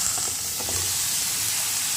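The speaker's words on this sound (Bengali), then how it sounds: "এখানে পেঁয়াজ, আদা, রসুন ভাজছি" Onion, ginger and garlic fry in a wok with a continuous close sizzle and crackle, a soft hiss running throughout and light stirring scrapes, with no talking.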